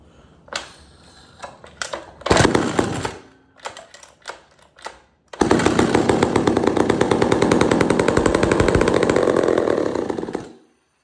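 McCulloch 440 chainsaw being started, several short pull-cord rasps and sputters, then the engine catches and runs loud and close with a fast rattling buzz for about five seconds before cutting out.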